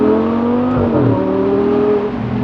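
An Audi R8 with the R-Tronic gearbox accelerates hard, its engine droning loud and close before a brief dip and change in pitch as it shifts up a gear, then pulling on.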